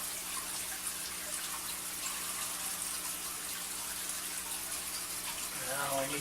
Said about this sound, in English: and pour the contents into my container.